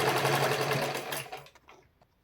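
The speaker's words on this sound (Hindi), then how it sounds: "अब मैं ऊपर की ओर थोड़ा सा मोड़ के पहले एक सिलाई करूँगी" A sewing machine runs a line of stitching along a small fold turned toward the top of the fabric, a steady, close whir that slows and dies away after about a second and a half.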